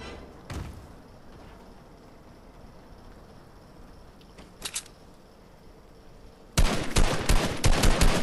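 Video game gunfire: a single sharp shot early on, a short double burst midway, then a loud, rapid, sustained volley to the end, over a quiet background hum.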